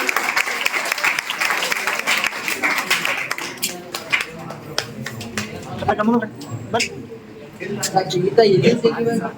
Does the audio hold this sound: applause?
yes